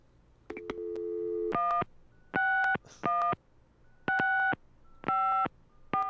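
Telephone keypad tones and call-progress beeps from the Gabriel Knight adventure game, a series of loud, steady multi-tone bursts in an even rhythm, preceded by a brief sustained tone, with no talking.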